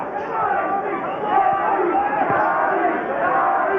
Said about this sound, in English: Crowd trying to pick Arturo up.